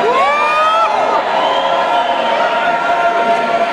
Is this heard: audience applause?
yes